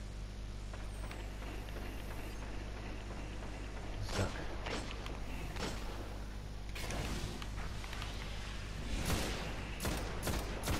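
Gunfire in a Destiny 2 two-versus-two match, bursts of shots cracking out in clusters around four, seven and nine seconds over a constant low game rumble, no speech.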